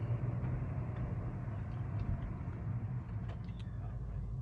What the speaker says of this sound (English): as I'm driving back home